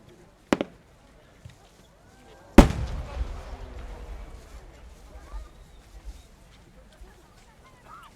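Japanese fireworks shell from a professional maker bursting at the Omagari festival: a sharp distant pop, then a loud booming burst that rolls into a long crackling, rumbling tail fading over several seconds.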